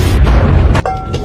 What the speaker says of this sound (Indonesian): Saat Mabuchi ingin menembak Izumi, Yuji melempar peledak hingga Mabuchi dan Izumi terlempar.